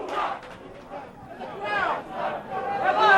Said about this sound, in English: The Brazilian crowd shouting, Ruas, Ruas.